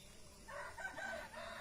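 A chicken crows once at moderate distance, a drawn-out call over a faint outdoor background hiss.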